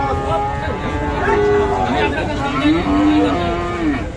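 Sahiwal cattle low with long, deep moos at a busy livestock market, several drawn-out calls overlapping close by amid crowd chatter and someone speaking.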